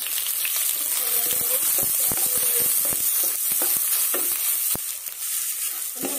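Onions fry with beef in a pan, a steady crackling sizzle broken by repeated scraping and stirring clatters from a utensil, continuous throughout without talk.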